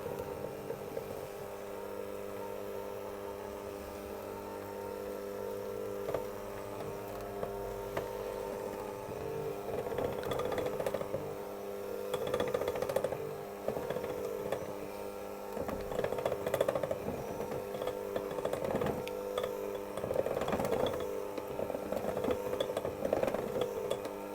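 An electric mixer beats cream cheese and butter at low speed, giving a steady motor hum with uneven, rising whirring and clattering bursts as the paddles work through the mixture, running alone with no voices.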